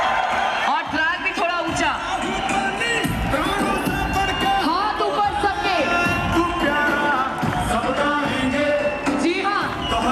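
A crowd cheers and whoops steadily through the full stretch at a live event, with a welcome for a guest speaker, Sanjeev Kumar. An emcee talks loudly over the noise with music behind.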